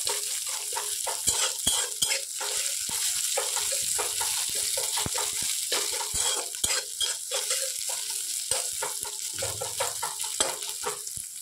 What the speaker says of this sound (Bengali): এখানে পুঁই শাকের তরকারির জন্য ফোড়ন দিয়ে পেঁয়াজটা কিছু ভাজা করে নিচ্ছি।